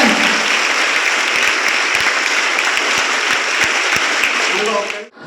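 A crowd at a school youth festival in Chalakudy applauds loudly and steadily with dense, continuous clapping that cuts off abruptly at the end.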